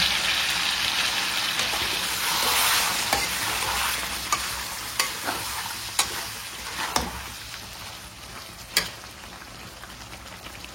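Chicken curry sizzles and bubbles in a pan after a splash of water, a steady close hiss broken by sharp clicks and taps of a stirring utensil, no voices.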